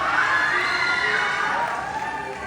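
A pageant crowd cheers and whoops for a newly announced beauty queen, a loud sustained roar of shouting voices with high excited yells sliding over it, fading slightly toward the end.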